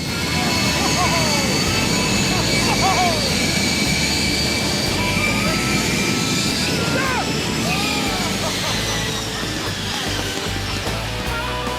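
Jet engine of a Dominator rig running up to full throttle during a wind threshold test, a loud sustained roar and whine with rising tonal sweeps, continuous throughout with voices over it.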